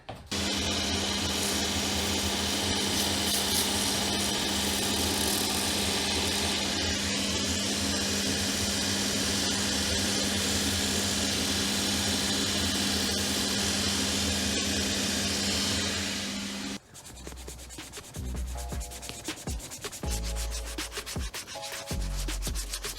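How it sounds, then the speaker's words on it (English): Sandpaper sands a FootJoy golf shoe sole in a repair shop, a loud continuous abrasive rubbing for most of the stretch, then giving way to lower thumps and shorter scraping strokes; no speech. "So the reason we use sandpaper at this stage is just get a real nice smooth finish before we put ink on."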